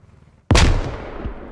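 A single sharp grenade blast in the military shooter Squad, bursting loud and close out of near silence, then rolling off into a fading rumble with a smaller thud trailing a moment later.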